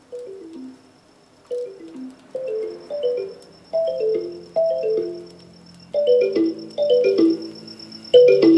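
A cell phone rings with a bright synthetic melody, a series of short descending note bursts repeating in quick phrases, loud and close, with no voices.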